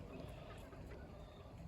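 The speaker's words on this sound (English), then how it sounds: "Oh, silly chickens." Chickens clucking steadily in a farmyard setting near a quail coop and laying hens, a dense continuous murmur of fowl calls with no clear crowing, moderately close.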